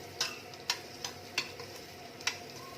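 Meat being sautéed in a pan for pares: a quiet background sizzle with about five sharp clinks of a utensil stirring against the pan at an irregular pace, with no talk.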